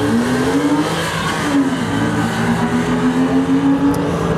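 Cars revving and accelerating hard in a side-by-side speed race at a Tromsø speed night event, a Porsche 911 paired against a BMW, with a steady loud engine roar whose pitch climbs through gear changes, no talk over it.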